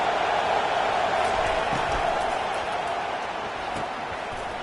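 A stadium crowd in an American football video game, Alabama versus Wisconsin, roaring in a dense, steady wash of cheering that holds loud throughout and eases slightly near the end, with no clear talking.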